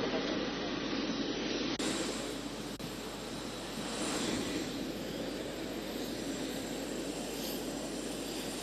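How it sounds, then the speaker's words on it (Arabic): Aircraft engine noise at a Sudanese airport as the plane carrying the body of a poet arrives, a steady loud roar filling the scene throughout with no voices. "لأن الطائرة في سياق نزول جثمان الفنان الكبير الراحل محمد طه القدال."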